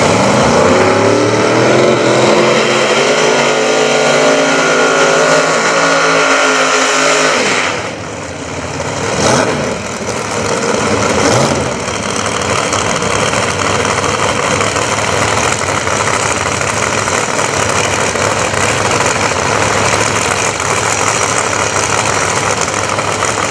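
A heavy truck engine idles with a rising growl, then roars louder as it revs hard and keeps running at a loud, steady rumble close by.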